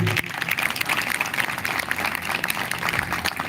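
Audience applause after a dance performance at Shree Ma Ashapura Dham in Bhopal, a dense, steady wash of many hands clapping that carries on throughout at moderate loudness, with no talking.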